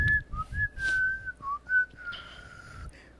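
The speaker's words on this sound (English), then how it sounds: "I love to whistle." A person whistles a meandering, melodic tune in clear, sustained pure notes with small pitch slides, close up, over faint low background rumble and occasional soft noises.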